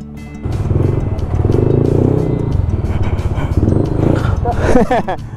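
Yamaha NMAX 2023 V2 scooter fitted with a JVT V3 adjustable exhaust pipe, its engine note rumbling steadily and close with a rise in revs near the end, voices talking over it.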